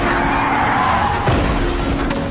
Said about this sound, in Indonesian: satu mobil hitam menabraknya